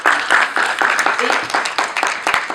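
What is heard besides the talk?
audience applause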